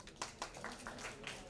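Applause from an audience at the launch of a radio show with a singer-composer, a soft, steady patter of clapping that stays fairly quiet and distant throughout.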